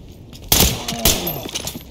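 Gunfire in the Ready or Not tactical shooter game: two sharp, loud shots about half a second apart, each followed by a brief decaying echo, with no talking.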